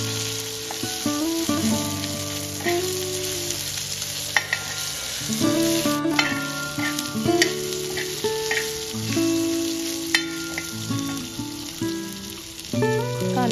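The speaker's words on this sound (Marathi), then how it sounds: "आपला कट केलेला कांदा 1 मिनिटासाठी परतून घ्यायचा आहे" Chopped, already-roasted onion sautéing on a griddle, crackling and sizzling continuously up close with frequent spatula scrapes and stirring clatter, no voices.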